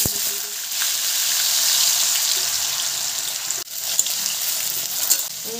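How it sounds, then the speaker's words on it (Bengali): Whole cardamom, cinnamon and cumin seeds hitting hot oil in a pan, a close, dense crackling sizzle running continuously with a brief dip and a few small pops near the end. "আমি তেলের মধ্যে এলাচ, দারচিনি আর জিরে ফোড়ন দিচ্ছি"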